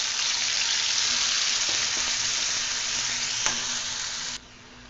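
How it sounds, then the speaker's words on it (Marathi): A ball of ground carrot paste fries in hot ghee with a loud, steady sizzle and occasional small crackles, then the sizzle drops sharply near the end. "त्या तुपामध्ये आपण हे गाजराचं वाटलेलं आहे ना गोळा,"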